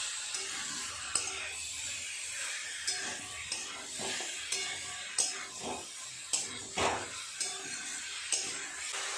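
Spices for prawn achar cooking down in a pan, with a steady sizzle broken by repeated scraping stirs at a fairly even rhythm, close and fairly loud, with no voices.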